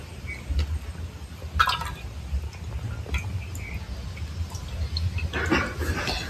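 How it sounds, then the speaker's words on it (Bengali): Pieces of sole fish being squeezed by hand to press out water, giving soft wet squelches and a few brief drips spread irregularly through the clip, close and fairly quiet. "মাছগুলোকে আমি ভালো করে চিপে নেব, একদম জলটা ভালো করে চিপে নেব।"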